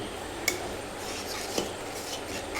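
Baingan masala with tomato and green chilli stirred in a pan, a steady soft scraping and rubbing of a spatula with two sharper clinks, under a gentle background sizzle.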